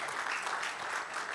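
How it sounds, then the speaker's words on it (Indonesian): A church congregation applauds during a Sunday service, a short run of steady massed clapping heard at moderate distance. "ya beri tepuk tangan untuk Tuhan kita"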